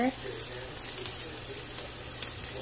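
Garlic and pre-softened pork sautéing in a pan for binagoongang baboy, a soft steady sizzle with occasional faint clinks, low background hum, no talking.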